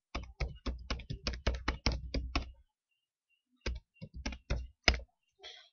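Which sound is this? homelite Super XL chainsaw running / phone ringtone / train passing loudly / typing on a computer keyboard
typing on a computer keyboard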